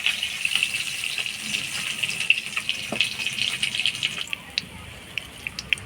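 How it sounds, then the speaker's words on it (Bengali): Rohu fish fries in hot oil with a steady high crackling sizzle and scattered pops that thin out into sparser spits near the end. "মাছটা কড়া করে ভাজবো না হালকা লাল করে ভাজি নিলাম"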